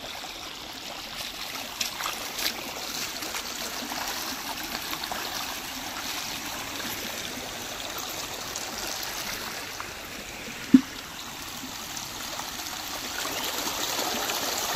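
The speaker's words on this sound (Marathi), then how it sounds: "कसं आता पाणी पळत चाललंय उसाव" Irrigation water runs into a sugarcane field, a steady gentle trickling and gurgling flow that continues throughout, with one brief sharp knock near the end and no voices.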